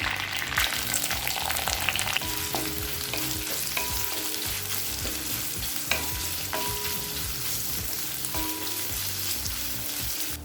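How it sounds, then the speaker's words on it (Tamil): Onions sizzle and fry in hot oil with curry leaves, a dense continuous crackle with occasional stirring scrapes, close and fairly loud. "இப்போ வெங்காயம் நல்லா வதங்கிடுச்சுங்க"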